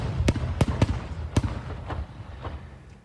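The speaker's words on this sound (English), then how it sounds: "That's fireworks misfiring at a country club on Cape Cod." Fireworks misfire at a Cape Cod country club, throwing off a handful of sharp, loud pops and bangs at irregular intervals over a rumbling background, with a few fainter cracks trailing off toward the end.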